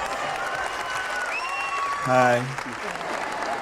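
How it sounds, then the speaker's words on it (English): Steady applause from a comedy show audience fills the background while a voice briefly greets the crowd over it. "big round of applause"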